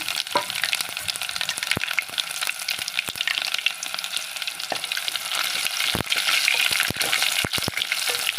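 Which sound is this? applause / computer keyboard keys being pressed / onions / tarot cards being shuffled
onions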